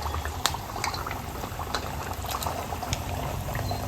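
Five or six rava (sooji) vadas deep-frying in hot oil, giving a dense, continuous bubbling sizzle with small crackles, close and steady throughout, with no voices.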